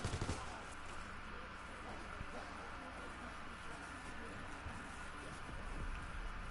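Gunfire in WW2 Zombies as a player shoots down a battery, a dense continuous wash of rapid shots and noisy battle ambience, steady and fairly loud with no clear breaks.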